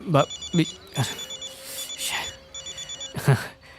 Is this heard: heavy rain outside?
no